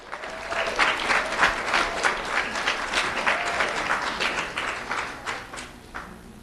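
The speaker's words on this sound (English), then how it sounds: "Let's have a round of applause for Michaela Jean." An audience applauds Michaela Jean at a Do the Right Thing recognition event, a full, lively round of clapping that holds steady and then thins out toward the end.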